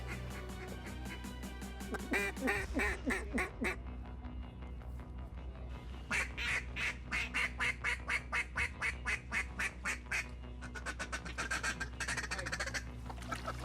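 Ducks quacking on water with a little ice, a steady run of repeated calls in bursts, fairly near and loud with brief pauses between flurries.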